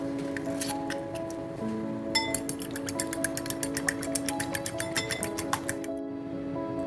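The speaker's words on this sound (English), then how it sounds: "So you're going to need 2 eggs. You're going to whisk those." Eggs whisked in a bowl while preparing a salmon dish, a rapid run of light clinking taps against the bowl's side with steady background hum, no talking.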